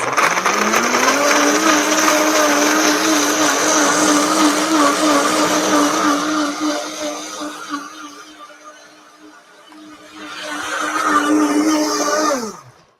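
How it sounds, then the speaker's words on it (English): A high-powered blender pulverizes dates and oats with a loud, steady motor roar and grinding churn, dipping briefly as the load shifts, then surging again before cutting off. "If you don't have a high-powered blender, soak your dates in some like hot water because they need to get pulverized."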